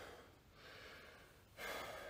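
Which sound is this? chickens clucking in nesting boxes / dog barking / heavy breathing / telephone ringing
heavy breathing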